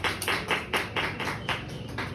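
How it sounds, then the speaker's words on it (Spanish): A small audience claps in an even, quick rhythm, each clap crisp and fairly close, repeating steadily without a pause. "Un aplauso."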